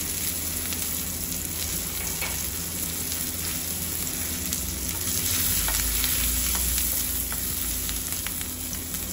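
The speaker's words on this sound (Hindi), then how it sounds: "ऑयल में हमने डाला सब्ज मिर्चें और कुटा हुआ लहसुन" Green chillies and crushed garlic frying in hot oil for a tadka: a steady, dense sizzle and crackle close up, continuous throughout with faint stirring, no voices.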